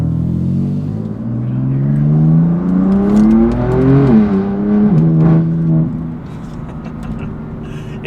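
BMW M4 CS engine revving loudly and close, its note rising steadily then dipping and swelling again in a smooth throttle sweep before settling back to a lower drone.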